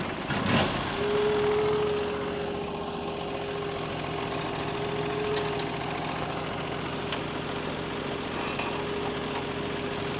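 The engine of an HD36V2 sawmill runs at a steady idle, a constant close mechanical hum with a faint tonal whine and occasional small clicks, heard alone without talk.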